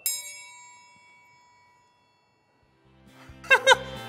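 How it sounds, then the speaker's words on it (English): A metal triangle struck with a little stick gives one bright ring that fades away slowly into silence, followed by a voice and laughter. "Should I play the triangle?"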